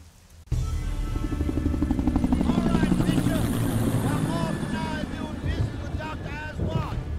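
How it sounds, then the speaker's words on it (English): A helicopter in the Splinter Cell: Double Agent video game roars in abruptly after a short quiet start, its loud steady rotor thrum filling the scene with wavering engine whine, faint game voices mixed beneath. "The helicopter sequence again."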